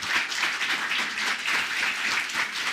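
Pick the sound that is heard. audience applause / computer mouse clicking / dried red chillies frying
audience applause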